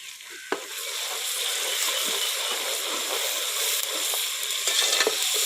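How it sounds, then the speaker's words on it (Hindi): Finely chopped tomato frying in a pan with ginger garlic paste, giving a steady, close sizzle with occasional stirring scrapes and small pops, no talking. "टमाटर को भी थोड़ी देर के लिए भून लेना है।"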